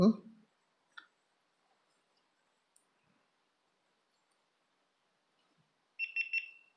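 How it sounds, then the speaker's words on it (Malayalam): A GoPro Hero 8 Black switching on, a short high electronic beep pattern near the end after a few faint clicks and near silence, close and clear. "ഒരു ബീപ്പ് സൗണ്ട് കേട്ടു"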